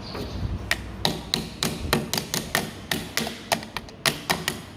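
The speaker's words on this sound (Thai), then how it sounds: "ค้อนเคาะกระแทกลงนะครับ แบบนี้ตีเข้าไป" A hammer strikes repeatedly in a steady rhythm, tapping a part into place while repairing an electric fan motor, sharp metallic taps close by, about three blows per second with no talking.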